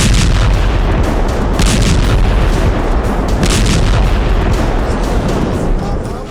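Loud, continuous rumbling bombardment with deep booms and blasts rolling over one another, recorded during Israeli air strikes near a hospital in Gaza amid the Israel-Palestine war, with no clear pauses across the stretch.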